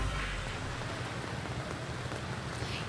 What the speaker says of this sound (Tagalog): lumalakas na ang ulan dito sa Valenzuela